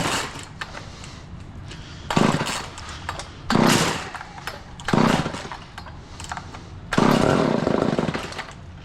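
An old Craftsman small engine is cranked on choke in four separate bursts, each a loud, rough roar that sputters out and dies before the next pull.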